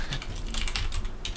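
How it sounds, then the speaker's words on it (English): Rapid keystrokes on a computer keyboard, a quick steady patter of clicks running throughout over a low background hum. "It's him typing."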